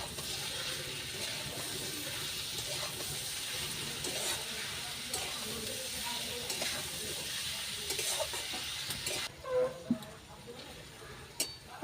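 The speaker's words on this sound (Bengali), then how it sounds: "এবার সব মশলাগুলো আমি একসাথে কষিয়ে নেব" Ground spices, including Kashmiri chilli powder and cumin powder, being fried and stirred together in oil in a pan, giving a steady close sizzle with scraping stirs that quiets near the end, where faint voice sounds slip in.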